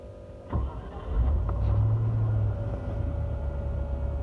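A 1993 Range Rover Classic LWB starts up: a short starter crank, then the engine catches and rumbles into a steady low idle, close and alone.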